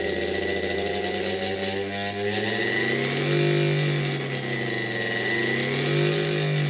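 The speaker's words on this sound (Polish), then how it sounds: "przy tym wyższym napięciu silnik bardzo fajnie już rusza." Electric motor of a 1964 FAWOD coffee grinder from Wrocław running steadily at higher voltage, a close, continuous whirring hum that rises slightly in pitch partway through and holds there.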